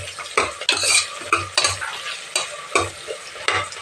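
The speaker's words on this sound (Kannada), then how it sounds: "ಈರುಳ್ಳಿ ಎಲ್ಲ ಫ್ರೈ ಆಗಬೇಕು ಚೆನ್ನಾಗಿ." Onions and green chillies fry in a pan, sizzling steadily while a spatula scrapes and knocks against the metal in regular strokes, close and fairly loud.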